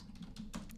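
Keys tapped on a computer keyboard in a short, quiet run of separate clicks over a low steady hum.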